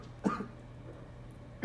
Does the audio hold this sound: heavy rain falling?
no